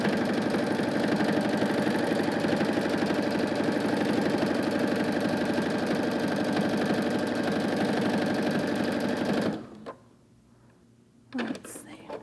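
A sewing machine does free-motion quilting with rapid, steady mechanical stitching for about nine seconds, then stops abruptly and leaves near silence broken by a brief clunk.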